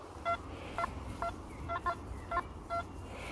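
Metal detector sounding short tonal beeps over a target while digging for coins outdoors, about seven clipped beeps at irregular intervals over steady background noise.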